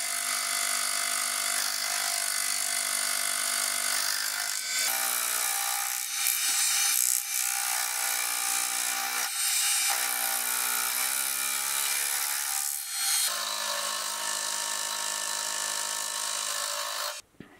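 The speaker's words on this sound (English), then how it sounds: "With the angle block now made up, I can now face and then clean up the other two parts." A milling machine faces and cleans up metal parts, giving a steady, bright, high-pitched cutting whine with a constant tonal hum. Its pitch shifts slightly as the cut changes, with no talk over it.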